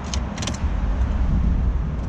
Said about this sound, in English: another car just sped by